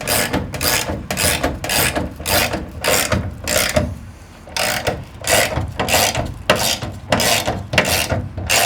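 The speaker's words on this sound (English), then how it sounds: "And you use your socket on the front of the beam." Rapid metallic clicking of a socket wrench ratcheting a bolt on the front of a wooden shelf beam, in loud repeated bursts with a brief pause midway.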